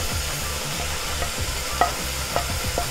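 Garam masala and chilli powder sautéing in hot oil in a pan, a continuous sizzle broken by steady scraping strokes of a spoon stirring, close and clear with no voices.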